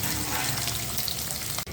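Onions hiss and sizzle in hot oil with mustard and cumin seeds while cooking horse gram soup, a steady dense crackle with no talking, ending in a brief dip.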